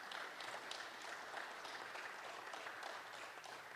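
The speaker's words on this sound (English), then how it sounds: "Another round of applause for him." An audience at a high school football media day event applauds steadily, a dense wash of clapping heard from a distance at low level for several seconds.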